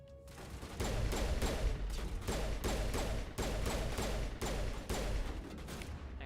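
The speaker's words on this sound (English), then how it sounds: "Hang on, I'm getting shot at." Rapid, sustained gunfire from a Mass Effect 1 combat scene, dense repeated shots and bursts running loud and continuous for several seconds with no talking.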